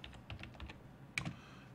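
Quick, irregular clicks of fingers typing on a computer keyboard, with a few close, crisp keystrokes and a slightly louder cluster near the end, with no talking.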